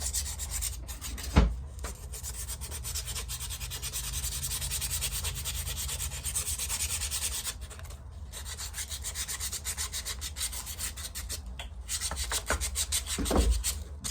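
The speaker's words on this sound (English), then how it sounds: "gently like to hit them with a piece of sandpaper" Steady dry rasping of sandpaper rubbing back and forth along a wooden puppet arm rod, continuous and close, with a couple of brief knocks.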